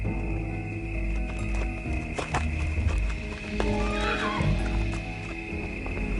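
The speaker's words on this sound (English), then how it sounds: "I went to get me a horse." A horse whinnies and its hooves clip-clop at a walking pace, set in a Revolutionary War-era night ride toward Charleston Common, heard over a steady layer of background music or ambience.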